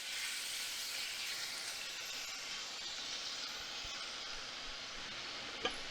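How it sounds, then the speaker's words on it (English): A steady, soft hiss of garlic shrimp sizzling in a hot pan runs throughout, with one brief clink near the end. "that garlic shrimp is going right in. You hear it sizzling."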